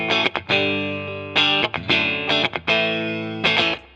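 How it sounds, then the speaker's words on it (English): Electric guitar played dry through a switcher straight into a Suhr amp, neck-and-middle fourth pickup position, with subtle amp reverb: clean sustained chords and short phrases picked in bursts with brief gaps between, no talk. "So let me give you what the dry sound is, and this is going guitar into the switcher, nothing engaged, straight into the amp"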